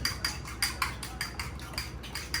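A spoon mixing mozzarella stick ingredients made with almond flour in a bowl: rapid rhythmic clinks and scrapes, roughly five strokes a second, close and fairly loud with no voices.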